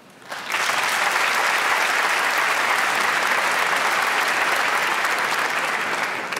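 Comedy club audience bursts into loud, sustained applause at a French stand-up show, starting abruptly and holding as a dense wash of clapping from a large crowd.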